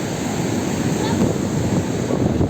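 Sea waves wash onto the shore along a coast in a steady, close hiss of surf, with wind buffeting the microphone.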